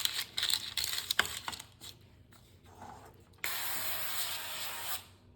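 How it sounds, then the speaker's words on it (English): Avocado oil spray mists onto parchment paper lining a baking pan in one sustained hiss lasting about a second and a half, preceded by soft rustling and handling clatter. "And I'm also going to spray the parchment paper as well."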